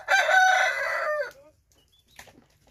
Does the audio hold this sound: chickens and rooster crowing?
yes